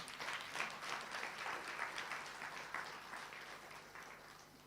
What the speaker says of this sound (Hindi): ताली बजाओ जरा अच्छी तरह से